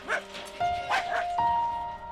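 Dogs at a Korean dog farm give a few close barks and high yips, separated by short whining tones.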